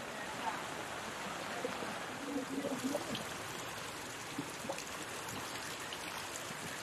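Floodwater rushing along a road after heavy monsoon rain in Raigad, a steady broad wash of flowing water, fairly faint and continuous, with a few brief faint sounds over it.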